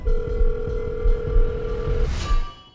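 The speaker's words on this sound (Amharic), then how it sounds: "እየጠራ ነው?" A phone call's ringback tone sounds as a loud, steady electronic purr for about two seconds, then cuts off abruptly.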